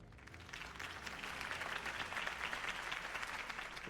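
A crowd in the video game Batman: The Telltale Series claps and applauds steadily, sounding fairly distant and soft, after a campaign speech.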